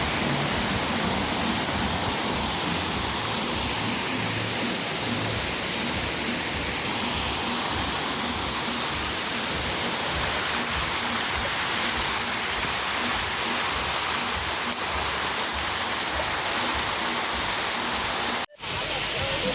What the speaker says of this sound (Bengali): এই ওয়াটারফলের নিচে দেখো অনেকে স্নান করছে খুব আনন্দে।